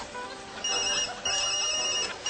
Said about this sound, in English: ever since breakfast my phone's been ringing off the hook